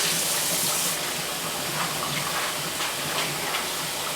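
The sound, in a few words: water poured off celery in a bowl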